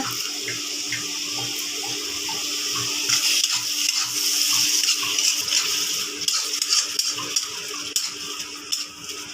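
Shrimp simmer down in a pan with added water, green chilies and cumin, giving a steady close bubbling hiss with faint stirring clicks and no voices.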